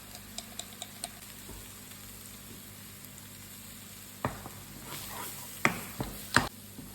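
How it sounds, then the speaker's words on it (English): Chopped onions with ginger powder fry quietly in a pan, a soft steady sizzle broken by a few light ticks, then louder scraping stirs and clatters near the end. "Fry this for about 3-4 minutes until the onions are soft and a little bit see-through"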